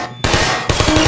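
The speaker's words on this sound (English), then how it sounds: "These turrets are programmed to shoot at test subjects." Automated turret gunfire in the video game Portal, two loud close bursts of rapid-fire shots separated by a short gap, sharp and dense.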